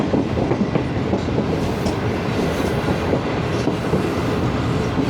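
Awam Express train rolling steadily into Rohri station in Pakistan, a continuous loud rumble with rhythmic clickety-clack of wheels over rail joints, close and sustained throughout with no talk.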